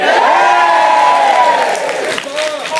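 Loud convention panel audience cheering and whooping in a hall, a dense burst of many voices with rising shouts that tapers slightly toward the end.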